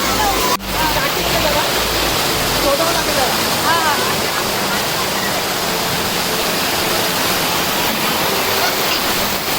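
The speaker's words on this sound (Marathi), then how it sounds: "वरती खूप मोठा वॉटरफॉल आहे" A large monsoon waterfall near the Khandoba temple at Bhatwadi roars in a steady, loud, unbroken rush of falling water, with a brief knock near the start.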